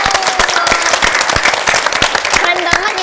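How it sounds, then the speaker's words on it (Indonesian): Close, loud applause from an audience for a guest star at a theatre show, dense clapping with distinct individual claps and crowd voices mixed in throughout. "Tepuk tangan dulu dong."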